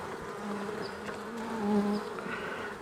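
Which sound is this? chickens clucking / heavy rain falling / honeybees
honeybees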